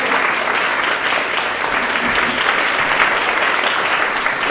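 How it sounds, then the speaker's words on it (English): Warm, dense applause from an audience welcoming a guest at a public conversation event, a steady loud wash of many hands clapping continuously throughout. "And so I just want to welcome with a warm round of applause."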